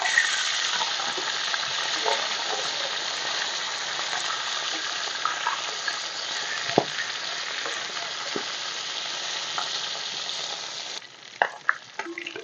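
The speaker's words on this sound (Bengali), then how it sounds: "মাছের মাথাগুলো দিয়ে দিয়েছি, উল্টো পাল্টে আমি ভালো করে ভেজে নেব।" Fish heads frying in hot oil for a Bengali kata chorchori, a loud continuous hiss and crackle of sizzling oil that runs steadily for most of the stretch before softening into a few utensil clinks.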